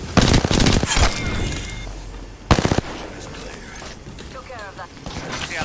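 Burst-fire gunshots in Apex Legends, loud rapid volleys at the start and again near the middle, with lighter mechanical clatter between and game sounds trailing off.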